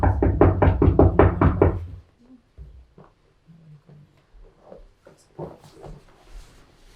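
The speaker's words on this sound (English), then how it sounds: "you knock the door" About a dozen firm knocks on a door come in a quick steady burst, loud and close, then stop; quiet rustling and low voices follow.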